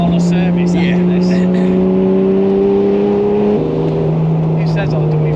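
A Ferrari supercar engine revs hard on a hill drive, a loud, close, sustained drone that steps down in pitch with a gear change, while people talk over it.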